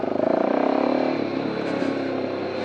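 Motorcycle engine near Lake Argyle dam as the rider pulls away, a steady pulsing rumble that rises at first then holds, loud and close, with no talk over it.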